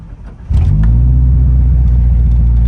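A car's built motor cranks briefly and catches, then settles into a loud, steady low idle that rumbles on without a break, with a coolant overflow fault noted.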